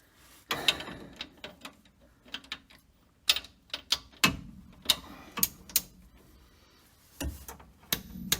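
A torque wrench tightening the trackbar bolt on a Jeep Cherokee, set to 75 foot-pounds: a string of sharp, close ratcheting clicks in irregular bursts, with quiet gaps between them.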